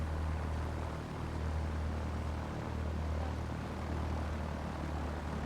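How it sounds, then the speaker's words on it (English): A small propeller plane lands nearby in the X-Plane 11 flight simulator, its engine a steady, faint droning hum that stays even throughout with no voices. "Ah, we had a plane land."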